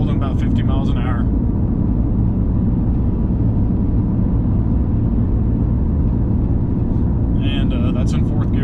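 Ram 3500 pickup hauling a track loader up a steep mountain grade toward Donner Summit, its engine working hard in 4th gear with a loud, steady low drone and road rumble throughout, while someone talks briefly at the start and the end.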